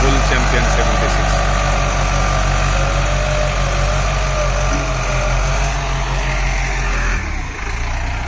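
A Bull Challenger CH 76 tractor engine runs at a steady, loud idle with a deep throbbing rumble, its tone shifting briefly near the end.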